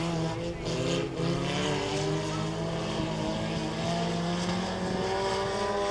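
Four-cylinder race cars battle side by side down the front stretch at Texarkana 67 Speedway, their engines a loud, sustained droning roar with rising tonal whine, heard continuously with no talk.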